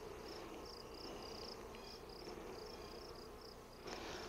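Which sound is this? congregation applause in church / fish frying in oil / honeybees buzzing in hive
honeybees buzzing in hive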